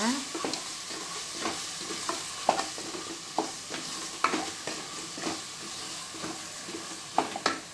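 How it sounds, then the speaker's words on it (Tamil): Masala powder for chicken curry being sautéed in a pan: steady frying sizzle under repeated spatula scrapes and clinks, close and fairly loud, with no voices. "மசாலா பொடியை போட்டு நல்லா வதக்கணும்."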